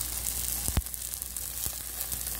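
Chive pancake with squid and clam meat frying in a pan, a steady close sizzle with a couple of sharp low knocks from the pan near the start and a faint tap later.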